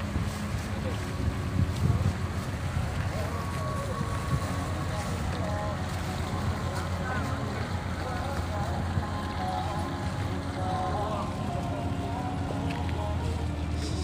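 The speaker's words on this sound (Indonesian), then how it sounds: "Kapal dari Simanindo ke Tiga Ras mulai berangkat." A wooden passenger boat on Lake Toba departs Simanindo for Tiga Ras, its engine a steady low drone under wind noise and water, with people talking nearby throughout.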